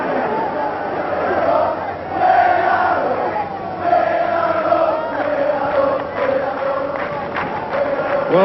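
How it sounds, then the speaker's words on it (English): A football crowd at a 1982 Bradford City versus AFC Bournemouth match sings a massed, rising-and-falling chant, heard from a distance as a continuous roar throughout. "some of the crowd singing "We Are Up,""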